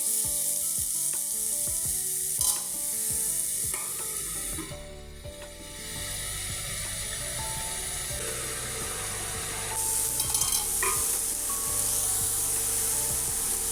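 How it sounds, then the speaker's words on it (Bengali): Squash stir-fried in a pan for a mixed vegetable curry, a steady sizzle with scattered clinks and scraping from stirring, close and fairly loud throughout, with no talking. "এবারে কোয়াশটা খানিকক্ষণ একটু নাড়াচাড়া করে নিচ্ছি"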